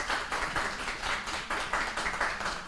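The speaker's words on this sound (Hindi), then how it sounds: "तालियों के साथ आपका स्वागत है।" Applause from a seated audience at a radio station's anniversary seminar and award ceremony in Lucknow, a steady dense patter of many hands clapping, moderately loud and continuous, swelling in slight waves with no talk over it.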